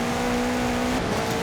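Car engine in Forza Horizon 4 during an e-brake turn into full throttle, a steady loud drone whose pitch drops and shifts partway through with tire noise, with no voices.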